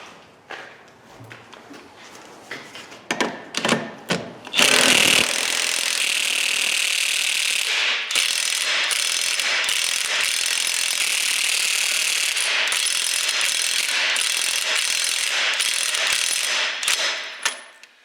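Impact wrench hammering at a stubborn nut during work on a Charger, bursts of short rattling blows, then a long continuous loud run with a brief pause, close up with no talk.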